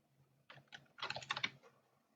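Keys clatter in a short quick burst on a computer keyboard, faint and close, as a name is typed in.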